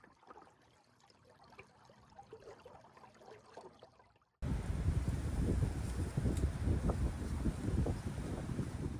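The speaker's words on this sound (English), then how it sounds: "It's a very breezy day with northwest winds in the 16 to 20 mile an hour range" Steady, gusty northwest wind of 16 to 20 mph roars across the microphone, starting quieter and then jumping to a loud, buffeting rush of air that continues to the end.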